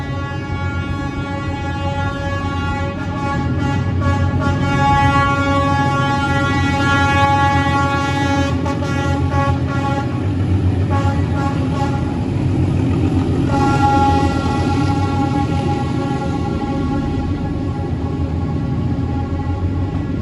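A train passes near a hotel in Vietnam, with a loud, continuous rumble carrying sustained horn-like tones for the full stretch, no voices over it.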